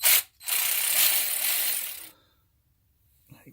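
A hand ratchet drives a 14 millimeter socket while draining the oil on an Infiniti, giving a quick close run of clicking pawl ratchets for about two seconds, then near silence.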